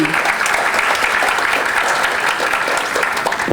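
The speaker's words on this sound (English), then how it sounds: "Round of applause for AISP" Loud, dense applause from the audience at an awards gala dinner, a steady wash of many hands clapping close by with no talking over it.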